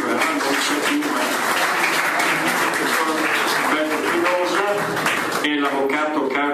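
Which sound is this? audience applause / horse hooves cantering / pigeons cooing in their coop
audience applause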